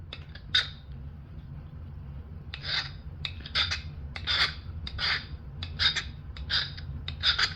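Root beer chert is abraded along its knapped edge in a series of short, dry rasping scrapes. They come in uneven bursts and sound close against a quiet background.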